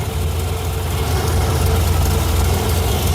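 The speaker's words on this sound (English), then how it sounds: "I love the way those timing gears sound" Cammed Chevy 350 V8 swapped into a 1987 Firebird, idling steadily up close with a loud, constant low rumble and a lopey, slightly uneven pulse, timing gear clatter mixed in.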